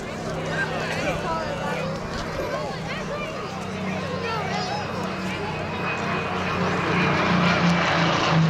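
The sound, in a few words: Supermarine Spitfire aircraft engine during an airshow flypast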